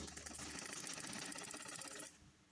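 A sewing machine runs a fast, even stitch through georgette fabric, loud and close for about two seconds before stopping.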